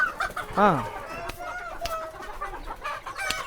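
Local chickens in a poultry farm with about 3000 birds cluck and squawk in scattered bursts, with one loud, drawn-out rooster-like call standing out near the start amid the flock's continuous chatter.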